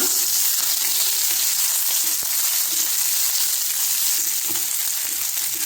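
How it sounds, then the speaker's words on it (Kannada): Curry leaves and urad dal fry in hot oil while a traditional katu mango saaru is being made. A loud, steady, crackling sizzle runs throughout, with no talk over it. "ಈ ಹಂತದಲ್ಲಿ 2 ಬೇವಿನ ಗರಿಯನ್ನು ಹಾಕ್ತಾ ಇದ್ದೀನಿ. ಇದು ಚೆನ್ನಾಗಿ ಹುರ್ಕೊಳ್ಳೋಣ."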